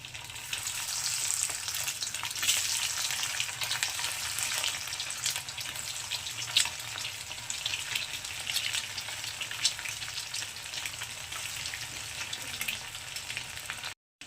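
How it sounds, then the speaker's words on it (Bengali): Eggs fry in hot white oil in a wok, giving a steady, close sizzle with scattered sharp crackles and pops that runs unbroken, with no voices. "এবার ডিমগুলোকে আমি তেলের মধ্যে দিয়ে দেবো"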